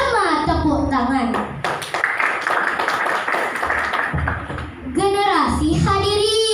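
Children in a hall clap their hands together in rhythm during a school event in Central Kalimantan, loud and close, between stretches of children's speech.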